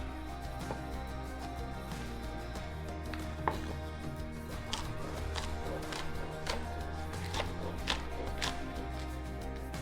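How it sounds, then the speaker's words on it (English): A knife chops spring onion on a cutting board in a series of light, fairly regular taps, close up against a low steady background hum. "Now I'm going to chop the spring onion."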